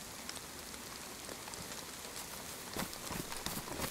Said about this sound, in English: Of course, it rains.